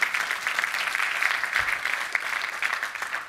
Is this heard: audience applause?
yes